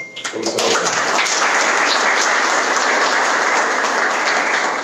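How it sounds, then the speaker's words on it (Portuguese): Audience applause at a political party symposium breaks out after a brief voice and swells into loud, sustained clapping from a crowd that carries on evenly to the end. "Uma salva de palmas"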